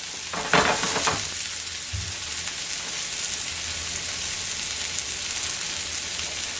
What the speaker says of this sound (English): That's a hot pan. And the onions are going to turn a little bit color.